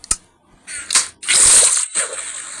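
Water being scooped up in Minecraft during a lucky block survival game, heard as a few short splashy sloshes in quick succession, with one longer, brighter gush in the middle and a softer splash after it.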